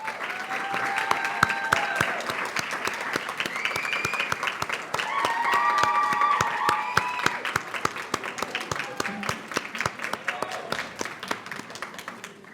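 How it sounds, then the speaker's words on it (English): An audience applauding at a nursing school welcome ceremony for new Bachelor of Science in Nursing students, sustained loud clapping from a large crowd with a few whoops, gradually thinning toward the end. "Let's give them a round of applause."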